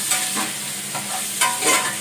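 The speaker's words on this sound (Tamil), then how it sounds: "போட்டு நல்லா வதக்குங்க" Boiled taro root (seppankizhangu) being stirred and fried in a pan for a spicy Tamil kuzhambu, with a steady sizzle and repeated scraping stir strokes about every half second, close and clear with no talking.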